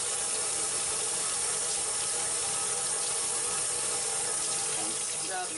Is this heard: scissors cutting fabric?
no